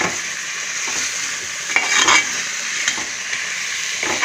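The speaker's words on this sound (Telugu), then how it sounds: "చూసారు కదా మటన్ వేసేసుకున్నాను అనమాట ఇదంతా ఫ్రై చేస్తాం" Mutton curry with masala fries in a pan and is stirred, giving a loud, close, steady sizzle with bursts of scraping and spattering.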